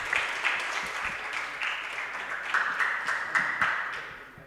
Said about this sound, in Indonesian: Beri tepuk tangan yang meriah kepada ketiga pasangan karena sudah menjawab dengan baik.